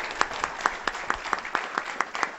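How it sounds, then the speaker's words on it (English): An audience at a Pima County Board of Supervisors meeting claps for the National Teacher of the Year: a small crowd's rhythmic, evenly spaced applause, moderately loud and steady for a couple of seconds. "Give him a round of applause, please"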